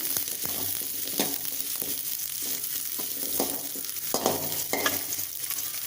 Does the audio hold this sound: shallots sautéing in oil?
yes